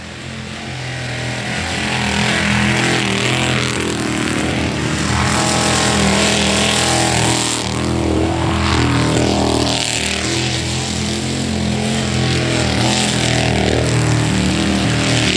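A racing boat's engine gives a loud, sustained roar with shifting pitch, steady and close throughout, like a powerful motor running hard at speed.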